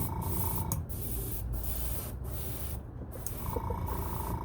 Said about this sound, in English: Now it's spraying nice.